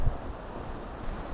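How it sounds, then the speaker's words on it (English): Gusting wind blows on the bank of the River Calder at Mexborough during a fishing match, a steady low rumble buffeting the microphone with slight surges and no speech. "Gusting wind though."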